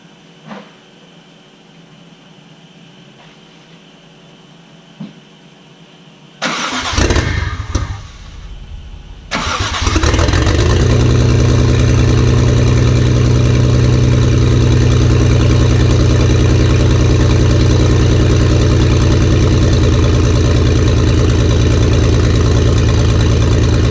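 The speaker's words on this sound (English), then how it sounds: "So I'm going to turn the fuel pump on and try again." A Toyota 1JZ-GTE engine cranks with a rough burst of starter noise after a quiet stretch, catches, and settles into a loud, steady high idle that runs to the end.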